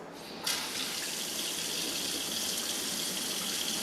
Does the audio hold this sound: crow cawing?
no